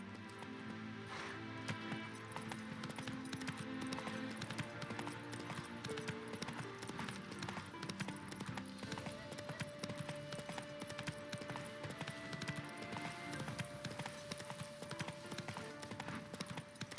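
Galloping hooves of the horse Roach in The Witcher 3, a steady rapid clip-clop rhythm running nonstop for over fifteen seconds under music and game ambience, fairly faint and even.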